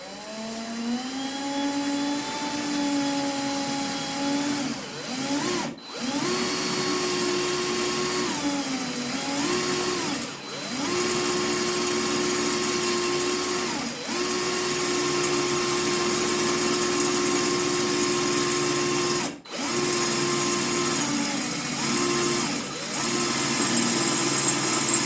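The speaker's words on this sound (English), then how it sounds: "Now let's try drilling on this metal." Black+Decker BDASB18V two-speed hammer drill drilling into metal, a loud continuous motor whine that shifts pitch as it loads and eases, broken by several short pauses, heard close up.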